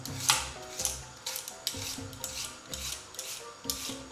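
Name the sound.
peeling white asparagus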